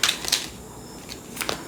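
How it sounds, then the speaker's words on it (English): Oracle cards being reshuffled by hand, heard as quick crisp riffling bursts and flicks close by, separated by short quiet gaps, with no talking. "Okay, I'm going to reshuffle."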